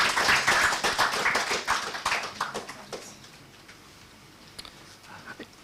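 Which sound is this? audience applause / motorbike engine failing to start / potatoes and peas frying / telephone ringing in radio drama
audience applause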